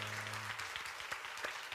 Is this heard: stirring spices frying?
no